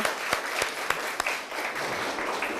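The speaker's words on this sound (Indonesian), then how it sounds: "tepuk tangan untuk beliau" Audience applauding a speaker being introduced at a cultural event, dense continuous clapping with several sharp individual claps cutting through at regular intervals, fairly close and loud throughout.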